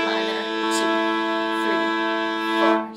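Bowed string chords ring out steadily, shifting between a few chord shapes in sequence, close and moderately loud with no voices.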